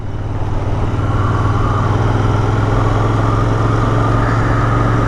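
A quiet motorcycle with its stock exhaust idles steadily, a low, even rumble that holds without revving for the whole stretch, with no voices.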